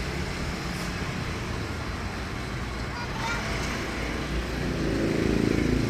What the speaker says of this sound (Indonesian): Ini mesin sudah dinyalakan ya.